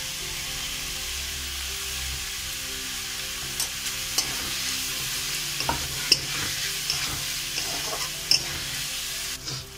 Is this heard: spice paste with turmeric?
yes